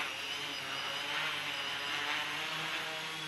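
A small quadcopter's motors whirring at a steady high-pitched buzz as the throttle is raised, close and continuous, alone without talk.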